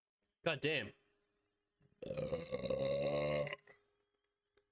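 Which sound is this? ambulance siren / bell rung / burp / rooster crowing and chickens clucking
burp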